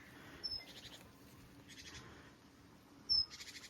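Small songbirds, great tits, call from a hedge on a farm, giving short high chirps in a few brief bursts over steady outdoor background noise, moderately distant.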